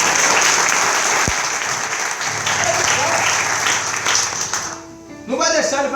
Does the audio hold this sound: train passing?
no